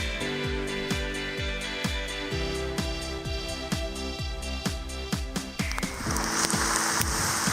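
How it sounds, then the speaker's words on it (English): Tiny hailstones pattering on an autumn forest trail in Algonquin's Western Upland, dense rapid ticks and taps throughout, close and steady with no talk. "no trip is complete without a hailstorm"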